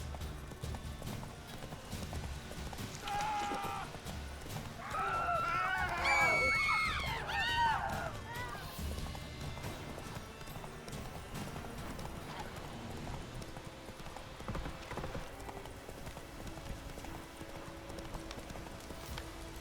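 Roach the horse gallops in Witcher 3, hooves clip-clopping in a steady rapid rhythm with a whinny rising briefly partway through, under faint game ambience at moderate distance.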